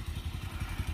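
A generator engine runs to pump irrigation water, giving a low, rapid, rhythmic chugging that stays close and steady with no voices over it.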